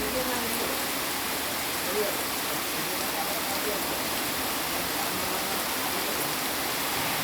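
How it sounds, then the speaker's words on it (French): Heavy rain falls near waterfalls in Sri Lanka, a dense, steady wash of hiss that holds at an even level for the whole stretch with no break. "là on est dans une pluie bien humide"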